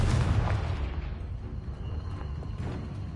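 A Confringo blasting spell detonates in a wizard video game, giving a loud opening boom that decays into a rumbling tail, with a few fainter crackling bursts afterward.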